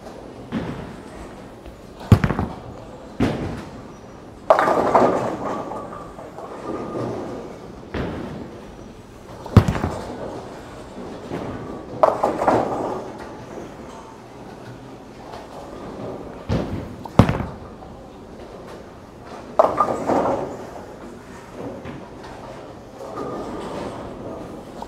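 A 900 Global Honey Badger Intensity ball rolls down a bowling lane and strikes the pins, each rumbling roll ending in a sharp crash. Several shots follow one after another, with thuds and slams spaced a few seconds apart.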